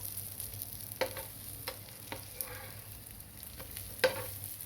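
Eggplant slices fry in a pan with a quiet, steady sizzle, broken by a few soft taps and clicks from a utensil, fairly faint and close.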